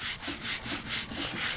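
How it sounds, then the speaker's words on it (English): A sanding block rubs by hand across a flat auto body panel in quick back-and-forth strokes, about seven even scratchy passes in a steady rhythm, close and fairly loud, no speech. "because this is a flat piece, we're gonna sand"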